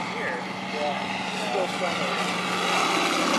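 A propeller-driven model plane with landing gear down drones past steadily in a low flyby at a model aircraft fly-in, its engine whine sustained and fairly loud throughout, with faint voices beneath.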